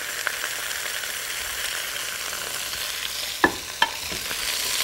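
Vegetables sautéing in a pan with turmeric and coriander powder give a steady, soft broadband sizzle, broken by two brief sharp clinks of a utensil near the end.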